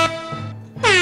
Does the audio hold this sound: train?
no